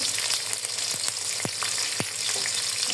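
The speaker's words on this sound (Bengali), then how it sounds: "পেঁয়াজটাকে ভালো করে একটু ভেজে নিব।" Chopped onion and sliced green chillies frying in oil, a steady close sizzle with a few sharp stirring knocks, no speech.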